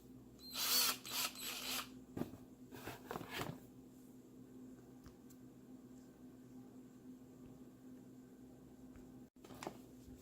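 A KKmoon 12-volt cordless screwdriver gives two short, loud, close whirring bursts near the start, then falls to a faint steady hum and near quiet.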